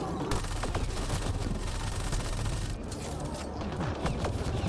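Dense, continuous weapon gunfire from a battle in Mass Effect Andromeda, rapid overlapping shots at steady loudness with bursts throughout, no talking over it.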